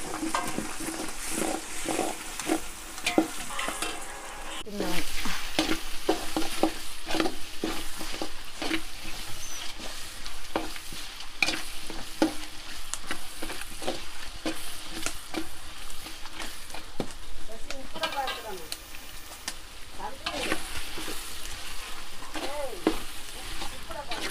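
Tomatoes and onions fry in a pan for village-style chicken curry, with a steady close sizzle throughout and frequent scraping stirs.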